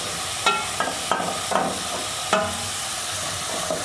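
Garlic, ginger and green chillies sizzle in a hot pan while being stirred, with a steady frying hiss broken by several sharp clinks of a spoon against the pan.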